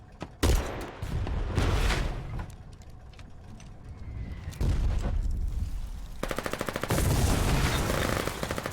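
Repeated gunfire in the war game Foxhole, with loud bursts of rapid automatic fire and scattered single shots, then a dense rattling volley near the end.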